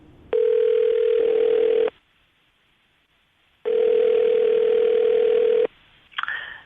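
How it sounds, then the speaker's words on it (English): Two long, steady electronic ring tones from a phone line, separated by a quiet pause, followed by a brief click as the call connects. "We're going to call him right now and see if we can get him on the phone"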